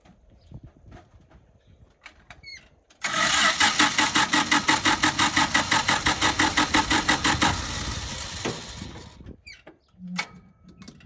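A 1976 Dodge D-300 dually flatbed dump truck's engine cranks loudly for about four seconds in fast, even starter pulses, then drops to a lower uneven rumble before fading to near silence.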